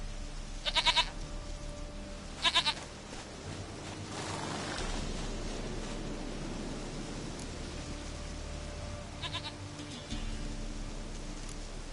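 Bleating of a goat in The Witcher 3, two brief bleats in the first three seconds and another near nine seconds, set against a steady rain-like hiss of game ambience, without speech.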